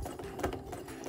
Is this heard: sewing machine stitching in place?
yes